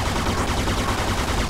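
Gunfire in the video game Mafia II during a car chase: dense, loud, rapid bursts of shots rattle continuously.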